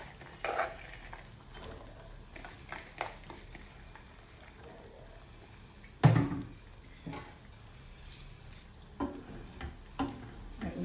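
Diced coconut pieces fry softly in ghee with a faint, steady sizzle, broken by occasional stirring clinks and one sharper scrape of utensil against pan.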